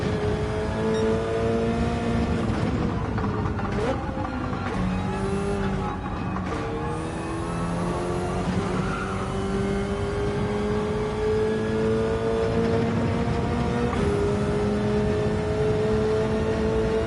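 Race car engine in Gran Turismo on the Dragon Trail Gardens circuit, revving hard and steadily throughout with shifting pitch as throttle is overapplied, loud and continuous with a few gear-change dips.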